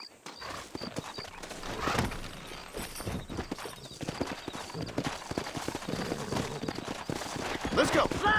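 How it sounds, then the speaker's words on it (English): Horse hooves in the video game Red Dead Redemption: rhythmic clip-clop of galloping horses with occasional whinnies and gunfire, mixed with shouted voices and game action. "Horses are over here!"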